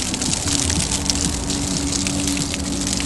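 Cooling water gushes steadily from the outlet of a running boat engine under repair, a continuous loud splashing stream with the engine humming beneath it and no talking.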